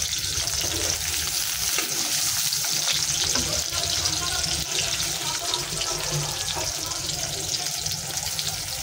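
Onions, green chilies and lentils frying in a pan make a dense, steady sizzle throughout, loud and close, with faint background noise beneath.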